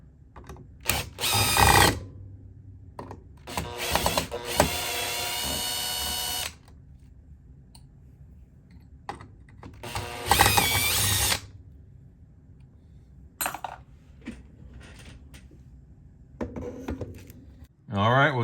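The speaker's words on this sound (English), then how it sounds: "one of the best things you can do is unfasten these two retention screws here" Power drill spinning out the retention screws on a Fender '63 Vibroverb reissue amplifier, in several loud whirring bursts with pauses and quieter handling between them, no talk.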